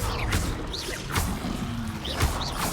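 Spells are cast in Hogwarts Legacy, with sharp magical whooshes and impact bursts that arrive in quick succession, some with rising swishing tones, against a busy game background.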